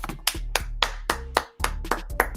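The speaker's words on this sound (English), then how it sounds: "please insert some type of applause right here" Sharp, separate hand claps land in an uneven rhythm over a low, steady hum, about eight distinct claps in quick succession with a short gap midway, close and fairly quiet.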